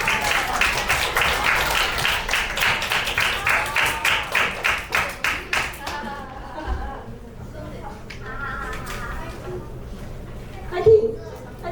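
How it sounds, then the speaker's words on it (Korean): An audience at a winter youth camp concert claps in a rhythmic, unison beat to bring a leader onto the stage, then the applause breaks off and voices and cheering follow. "큰 박수로 무대로 모셔볼게요."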